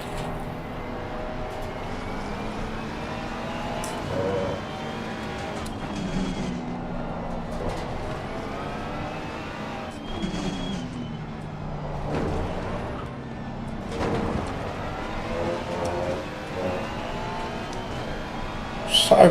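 Race car engines droning and shifting pitch through laps at Barcelona in Assetto Corsa Competizione, steady close engine whine with rising and falling revs as cars run nearby, with someone talking over it.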